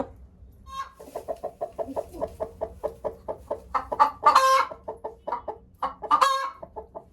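A broody hen clucks close by in a steady series of short, rhythmic clucks, growing into a few louder, longer squawks with brief gaps between.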